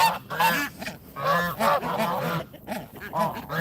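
A pet goose honks loudly and repeatedly at close range, a rapid series of harsh nasal calls in an uneven rhythm with short gaps between them.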